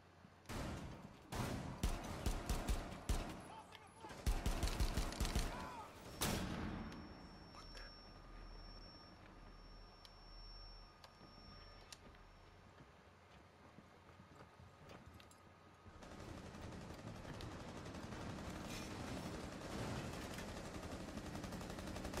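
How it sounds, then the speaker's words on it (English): Shotgun blasts in the game Rainbow Six Siege: a cluster of loud, sharp bangs and clattering impacts in the opening seconds, followed by a long stretch of steady in-game ambient noise. "Two shots and I'm dead, all because he had a fucking shotgun."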